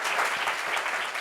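Studio audience applause on a French talk show, a dense, steady wash of many hands clapping at once, loud and close with no gaps for the whole short stretch.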